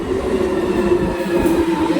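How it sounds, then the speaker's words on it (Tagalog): A crowded train pulling into a UK station, with a steady rumbling rail roar and a sustained tonal hum that holds loud and close throughout, with no talk. "The train is coming."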